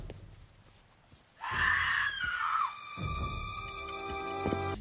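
A loud, wavering scream from a TV show episode rises suddenly and bends downward for about a second, then gives way to music and background sound.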